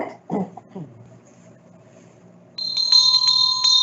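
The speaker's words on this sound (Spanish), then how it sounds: "La campana nos indica que acaba de terminar el tiempo" Electronic bell at an infrastructure innovation event in Colombia, a bright ringing tone that starts abruptly after a few coughs and throat clearing and continues steadily to the end, loud and clear.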